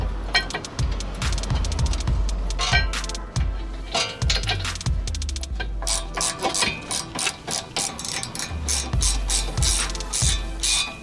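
Rapid ratchet clicking as a wrench works the 15 mm brake caliper bracket bolts on the rear brakes of a Lincoln MKS, in repeated bursts of close, loud metallic ticking with clinks between strokes.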